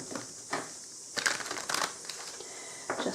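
Tarot cards shuffled by hand in a few short papery bursts of riffling and slapping, close and fairly quiet, with pauses of near silence between them.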